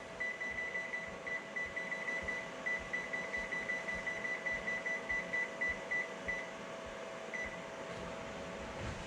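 Kitchen oven being set to 500 degrees: a long run of rapid, evenly spaced electronic beeps over a steady appliance hum, fairly close, with no talking.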